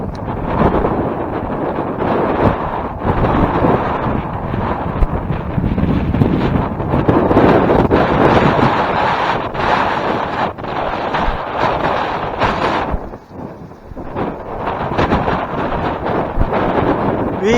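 Strong gusts on Stenner Creek Trail in San Luis Obispo, California batter the microphone in loud, rumbling buffets that swell and ease for the whole stretch, with a brief lull near the end.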